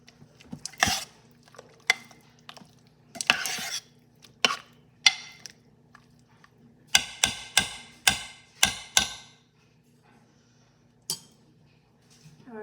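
Chicken pot pie ingredients with sage being stirred in a crockpot, a string of sharp clinks and scrapes of a utensil against the pot, irregular at first and then in a quick rhythmic run, close and fairly quiet.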